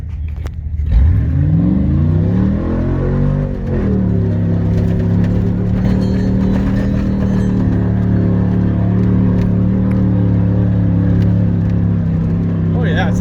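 An off-road vehicle's engine on desert sand dunes revs up sharply, then holds a loud, rising drone in second gear, close and sustained, with people talking over it.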